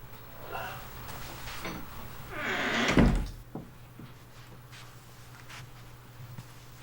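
A door closes in the video game Tex Murphy: Overseer, with a single solid thunk near the middle that stands out over a quiet room tone and a steady low hum.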